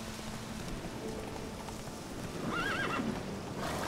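Roach, Geralt's horse in The Witcher 3, whinnies clearly over steady clip-clopping hooves, with game rain pattering in the background; the neigh rises near the end.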